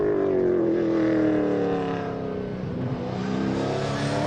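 V8 Supercar racing engines roar loudly on a race track at Red Star Raceway, a continuous deep, rising and falling drone with a slight dip in the middle, and no talk.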